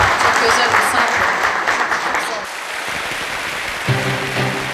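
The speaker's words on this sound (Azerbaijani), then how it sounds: "Gəlin bir daha alqışlayaq onun böyük əməyini." Audience applause at a community celebration in Novokuznetsk: dense, loud clapping that thins out around the middle, followed by a voice speaking under the fading claps.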